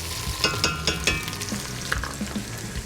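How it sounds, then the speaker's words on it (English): Onions sizzle steadily in a pot, with a few sharp scraping clicks as they are stirred. "So I'll start with the onions. Nice sizzle there. Give that a little stir first."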